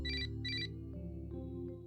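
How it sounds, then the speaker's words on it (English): An old phone ringing from inside a bag in The Song of Saya, two bright electronic ringtone bursts followed by a lower, sustained musical backdrop with soft chime accents. "he realizes that the ringtone is coming from the old phone in his bag"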